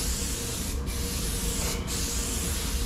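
A spray gun coats a car's rear bumper in a continuous loud hiss, broken by two short pauses as the trigger is released, with no voices.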